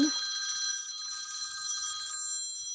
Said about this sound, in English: somebody's calling me on the phone